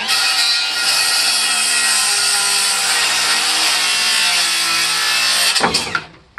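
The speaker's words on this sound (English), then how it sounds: "I've also got a plywood blade in here, which is taking forever to cut and using up more of my battery." Cordless battery saw fitted with a plywood blade cutting through a wooden sawhorse beam, a steady loud high-pitched whine and rasp lasting about six seconds before the blade winds down.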